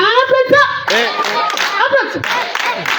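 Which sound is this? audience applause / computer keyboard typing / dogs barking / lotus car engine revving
audience applause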